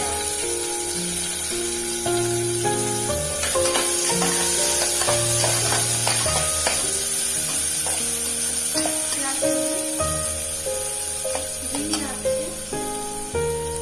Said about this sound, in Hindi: ये हमारे लहसुन थोड़ा सा भून गए हैं और इसमें डाल देंगे